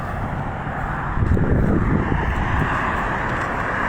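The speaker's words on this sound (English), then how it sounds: "There's cars going by." Steady broadband roar of traffic passing on a city street, with a louder swell of a car driving by midway and wind noise on the microphone, no talking.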